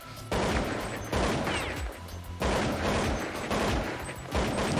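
Rapid bursts of spraying gunfire in Counter-Strike 1.6, firing through boxes and walls during a professional match. Four dense, loud volleys come with brief gaps between them, and faint commentary sits underneath.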